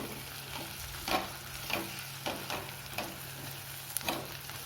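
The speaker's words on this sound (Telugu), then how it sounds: "కొంచెం వేగనియండి. చూడండి, ఎగ్స్ వేగినాయి." Eggs frying in a pan with salt and chili powder for egg pulusu, a soft steady sizzle with a few louder stirring scrapes at intervals, close and without talk.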